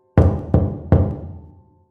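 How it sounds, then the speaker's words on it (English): Three sharp, loud knocks on a door, evenly spaced and close, each ringing briefly before dying into silence. "came three sharp knocks from somewhere beyond the foot of my bed"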